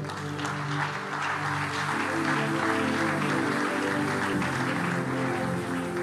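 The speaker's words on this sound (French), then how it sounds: "On peut acclamer pour le Seigneur" A church congregation clapping for the Lord as a steady, dense round of applause, with a sustained tone running underneath it throughout.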